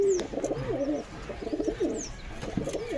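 A pigeon coos repeatedly in a homemade pigeon house where a female sits on eggs, the low rolling calls close and clear over faint background noise.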